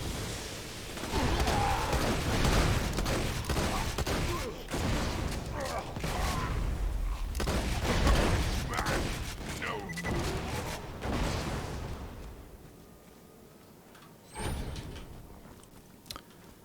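Magic missile grenades and gunfire in Borderlands 2 go off in a dense run of loud blasts and shots for about twelve seconds. They fade to a quieter bed, then one last burst lands, with a voice speaking over the fight.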